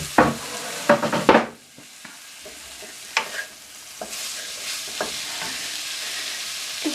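Bacon, bean sprouts, garlic and spring onions are stir-fried in a pan, giving sharp scraping stirs and clatters early on, then softer intermittent stirring over a gentle sizzle.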